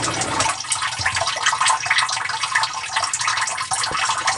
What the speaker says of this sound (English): didn't make a single bit of noise except for the rushing of the water going through the pipe